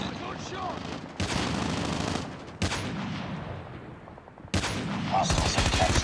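Call of Duty Mobile gunfire in a Hardpoint match: rapid automatic bursts and sharp single shots in clusters, broken by brief lulls, with in-game voice callouts mixed in.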